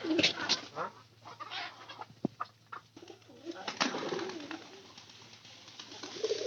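Several pigeons coo softly nearby in low, throaty rolling calls, overlapping with faint rustling and a few sharp clicks.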